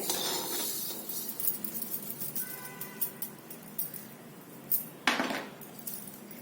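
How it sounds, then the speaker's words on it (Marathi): An iron griddle is set on a gas stove to heat while niger-seed chutney is being prepared, giving several sharp metallic clinks and clatters in an uneven rhythm, close by, with a louder clang near the end. "आता गॅसवरती एक लोखंडी तवा तापवायला ठेवलाय"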